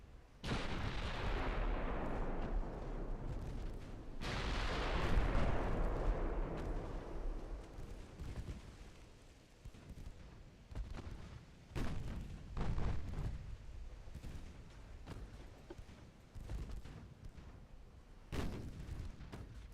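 Naval guns fire in the Ultimate Admiral Dreadnoughts game as two heavy booming salvos with long rumbling tails. Sharper, scattered reports follow later, and the whole passage plays loud with no speech.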